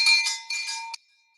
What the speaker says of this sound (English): you'll hear the bell. This is a sheep bell.